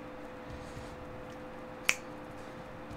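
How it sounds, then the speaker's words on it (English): A single sharp finger snap in the Final Fantasy VII video game, one crisp click standing alone over a quiet hum, no voices. "The finger snaps."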